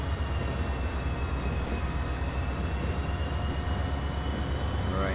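Diesel trains race in the video game Transport Fever, a steady rolling rumble with droning engine tones that holds at an even level throughout, with no talking.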